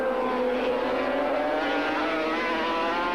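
A racing motorcycle engine in the 1985 Swann Series screams steadily at high revs under throttle, loud and continuous with a close onboard sound and no talking.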